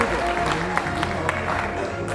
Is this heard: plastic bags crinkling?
no